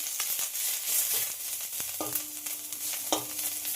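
Neem leaves frying in a pan give a steady, close sizzle with a few light stirring scrapes and clinks and no talking.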